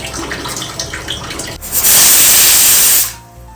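A glass of water gushes steadily into a cooking pot of mutton biryani for about a second, a loud broadband pour that cuts off abruptly, preceded by quieter kitchen clatter.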